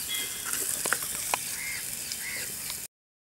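Sliced onions with salt frying in a pan give off a soft, steady sizzle while a few bird calls sound in the background, before everything cuts to silence near the end.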